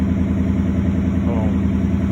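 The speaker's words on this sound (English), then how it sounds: "I hope this exhaust clip helps you guys out" Exhaust of a 2020 Ford F-150 XLT with the 5.0 Coyote V8 on an aftermarket system, a deep, steady, loud idle rumble with even pulsing throughout.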